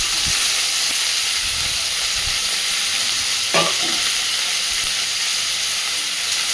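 Split green chillies dropped into hot oil with onion and potato, a loud continuous hiss and sizzle with a brief sharp crackle midway and a few stirring knocks.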